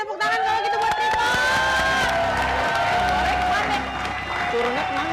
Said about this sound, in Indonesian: ngasih tepuk tangan kalau gitu buat Tripod